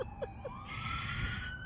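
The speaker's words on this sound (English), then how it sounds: "The sirens." A siren wails steadily in the distance, a rising tone over low rumbling background noise.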